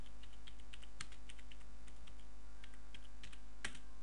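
Someone types a search on a computer keyboard, a quiet, quick run of uneven key clicks with a louder tap near the end over a low steady hum.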